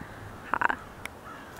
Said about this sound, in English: So, yeah, you can hear birds though.